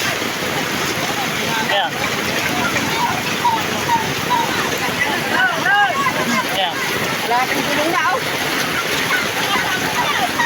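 Steady, loud rush of floodwater coming down from a mountain fills the scene, a constant broadband roar with wind buffeting, while a person speaks briefly over it.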